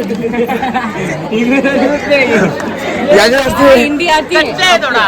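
Dense crowd chatter at a large palanquin procession in Maharashtra, many overlapping voices close by, loud and continuous, with people talking throughout.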